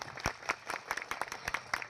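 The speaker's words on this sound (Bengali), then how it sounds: "স্যারের জন্য একটা হাততালি হয়ে যাক" An audience applauds at a public event, a close burst of rapid, overlapping hand claps that continues for the full span with no speech.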